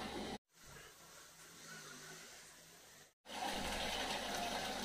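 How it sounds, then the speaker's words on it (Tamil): Water poured into a pot of rice while making Ambur biryani, a steady gushing stream that starts after a brief cut, runs for a few seconds, then resumes louder after a second short break, with no talking. "ரைஸ் அதுக்கு தேவையான தண்ணி சேர்க்கணும்."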